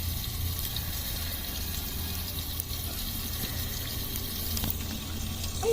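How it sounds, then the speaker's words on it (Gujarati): Rice cooking with vegetables in a clay pot for khichdi in a village kitchen, a soft continuous bubbling sizzle with low rumbling background noise. "થોડું શાક પાકી જાય પછી આપણે નાખીએ ચોખા"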